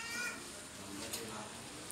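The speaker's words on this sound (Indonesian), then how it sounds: "bersama kucing onion" A cat meows briefly at a family gathering around batu akik gemstones, a short cry early on set against murmuring background voices and room noise.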